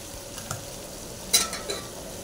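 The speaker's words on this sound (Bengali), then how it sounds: "এবার আমি নেড়ে নেব ভালো করে।" Potatoes fry in a pan with salt and turmeric, giving a soft, brief sizzle with a couple of light spatula scrapes as they are stirred.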